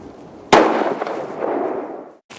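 A single sharp rifle shot fired from a Max Box bench rest cracks loudly, followed by a rolling echo that fades over about two seconds, then a brief second burst at the end.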